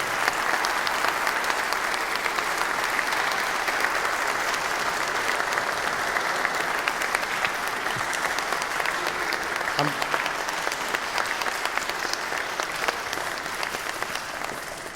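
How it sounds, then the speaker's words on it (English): A chapel audience at Washington Memorial Chapel, Valley Forge, gives long, steady applause after a talk, with dense clapping that stays even and full for the whole stretch before easing slightly at the end. "That was a long applause"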